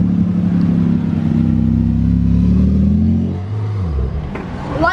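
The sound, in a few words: Porsche GT2 RS engine revving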